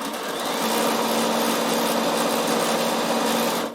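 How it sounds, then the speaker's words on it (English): A Bernina sewing machine stitching ribbings together runs in one steady, close, high-pitched buzzing hum for several seconds without pause, then stops, with no voices. "And that's how you sew your ribbings together."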